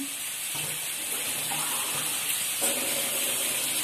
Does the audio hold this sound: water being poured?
yes